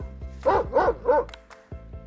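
A dog barks three times in quick succession, close and fairly loud, with short gaps between the barks and a few faint clicks after them.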